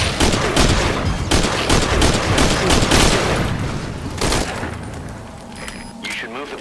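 Dense, continuous gunfire from the video game Metal Gear Solid V, with loud rapid shots that thin out toward the end.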